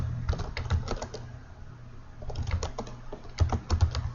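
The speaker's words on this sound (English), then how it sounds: "right here you're going to type in" Typing on a computer keyboard sounds close and brisk, with rapid clusters of clicking keystrokes, a short lull in the middle and then another quick burst.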